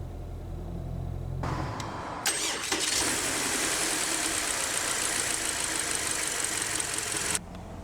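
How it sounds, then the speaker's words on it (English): A 2023 Subaru Outback Premium cranks over and starts, settling into a steady, loud idle with a broad engine hum that holds for several seconds before the tone shifts. "let's go ahead and start the engine"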